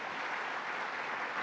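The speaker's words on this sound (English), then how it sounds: "So let's give a round of applause to Rob Simpson." Audience applause at a New York governor's administration briefing in Syracuse, a steady, dense patter of clapping from a crowd, moderately distant and even throughout.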